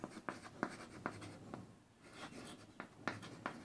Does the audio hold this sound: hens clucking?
no